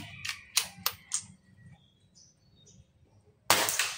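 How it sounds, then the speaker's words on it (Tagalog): A compact multishot air gun gives four quick crisp mechanical clicks as it is loaded and cocked, then after a short quiet gap a single loud close shot snaps out and fades. "Loading. Cocking. Firing."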